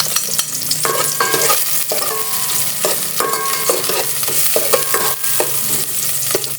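Onion and garlic for lomi sautéing in a little oil and pork fat in a pan, a steady loud sizzle with repeated scraping strokes of a spoon stirring throughout, no talking.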